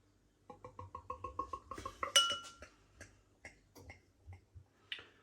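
Belgian wheat beer is poured from a bottle into a glass, giving a run of quick clinks and light taps followed by scattered softer ticks, quiet and close.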